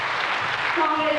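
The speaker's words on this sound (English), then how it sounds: "amidst your loud claps" Audience at a school annual day clapping for a prize winner, a steady dense wash of applause filling the moment.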